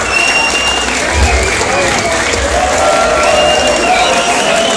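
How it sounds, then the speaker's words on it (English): A crowd applauds loudly and continuously at a death metal festival concert, dense clapping with a few whistles and cheers mixed in, voices audible underneath. "So give Bill a round of applause."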